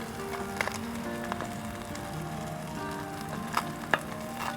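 Wild trout fries in a pan over a camp heat in New Zealand, a steady soft sizzle and crackle with occasional pops and faint clinks, continuous and close.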